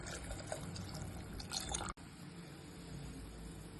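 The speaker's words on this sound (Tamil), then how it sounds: "இப்போ நிறைய தண்ணி சேர்க்கணும் இதோட." Water is poured steadily into a pot of boiled-down vendhaya kuzhambu, a soft close splashing that pauses briefly midway and then continues as a quieter stream.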